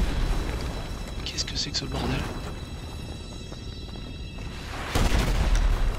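Rocket explosions in GTA Online, with heavy booms hitting near the start and again toward the end, while someone talks over the blasts.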